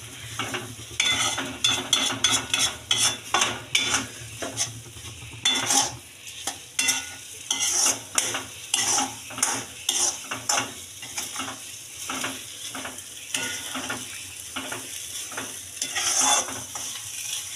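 Semolina sheera with ghee and cardamom being stirred in a pan, a steady run of close scraping strokes with a faint sizzle underneath and no voices.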